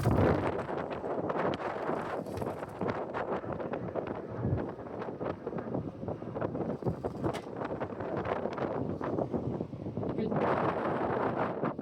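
Strong wind buffets the microphone on the deck of a Brisbane CityCat ferry, a steady roaring rush with gusts and faint boat engine rumble underneath.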